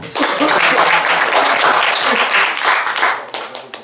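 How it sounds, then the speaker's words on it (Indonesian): Listeners at a lecture and discussion on Sufism break into loud, continuous clapping close by, steady for several seconds before tapering into scattered claps. "Oke, silahkan kalau yang mau tepuk tangan"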